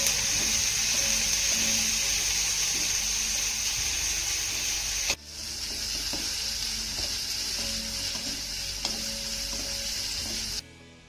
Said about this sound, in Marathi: हे सर्व साहित्य आपल्याला एक ते दोन मिनिटं छान असं परतून घ्यायचं आहे